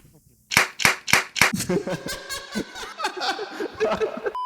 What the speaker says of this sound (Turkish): Phoenix bir alkışlasana.